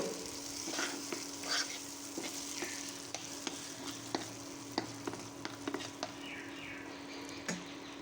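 Gobindobhog rice, tomato pieces and prawns are stirred together in a pan, giving a steady close frying sizzle broken by irregular scraping clicks of the spatula, with no talking.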